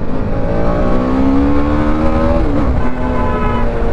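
A TVS Apache RR310 motorcycle accelerates hard on an evening ride, its engine note climbing steadily in pitch, dropping briefly at a gear change, then pulling again, loud and close throughout.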